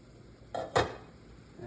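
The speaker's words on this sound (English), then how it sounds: "Now that my pasta water is boiling, I'm going to take the lid off" A metal lid comes off a pot of boiling pasta water: a short clatter followed by a louder clank at the stovetop, then a quiet bubbling hiss.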